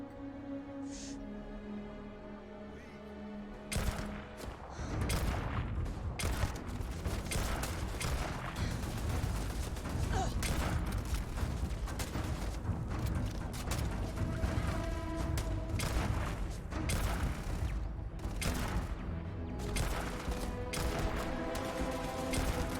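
Gang members fire on a robot in the video game Starfield: after a quiet start, dense rapid gunfire and sharp impacts erupt and continue as a loud, crackling barrage, with occasional mechanical clanks mixed in.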